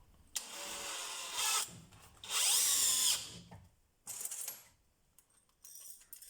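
A DeWalt DCD996N 18V cordless drill whirs in several short bursts with quiet pauses between, the longest run rising in pitch, close and fairly loud, drilling a 6 mm hole.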